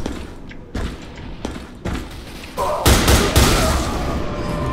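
Gunfire in the online shooter game Fear Online: a string of loud, close bursts and shots, with sharp hits near the start and a denser, sustained volley in the second half.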